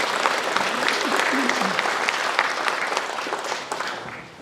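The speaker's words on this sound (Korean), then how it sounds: "최민호 시장님께 다시 한번 큰 박수 부탁드립니다" A crowd at a city mayor's public town-hall meeting gives sustained, loud applause that fills the whole stretch and tapers slightly at the end, with a voice briefly audible underneath.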